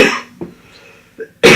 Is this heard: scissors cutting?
no